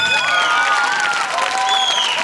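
An audience at a gala show applauds a performing group with dense, loud, continuous clapping, and a few thin whistling tones ride over the clapping.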